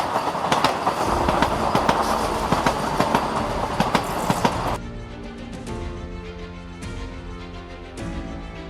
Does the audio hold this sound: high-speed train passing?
yes